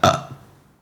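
A single loud, close burp erupts at the start, then trails off into quiet with a faint hint of another sound near the end.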